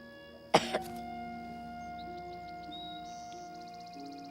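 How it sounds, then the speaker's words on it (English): A young boy lying face down during an examination lets out a loud, sharp cough followed by a smaller second burst, close up, then quiet room tone. "Even bigger cough."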